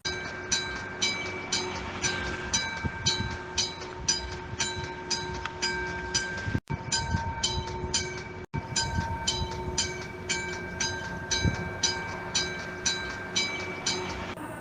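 A suburban train pulls out of Periperi station with a steady, rhythmic clickety-clack of wheels over rail joints, a continuous rolling rumble and faint tonal hums, moderately close throughout.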